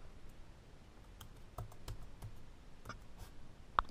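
Passwords are being typed on a laptop keyboard, a quiet, close series of irregular key taps and clicks that ends with a sharper press.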